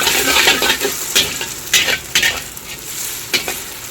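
Egg fried rice with cabbage being stirred in a hot pan, with close, irregular scrapes and clatters over a continuous sizzle and no voices.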